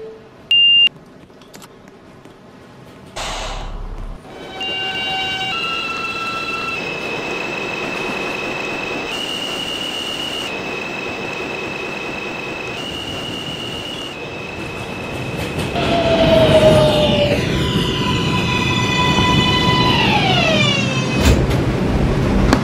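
A Manhattan-bound 6 train on the New York subway rumbles steadily, with sustained electronic tones and beeps. Loud metallic wheel squeals rise and sweep near the end.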